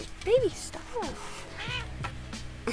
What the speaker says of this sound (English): If you hear any purring or scratching, that's my cat.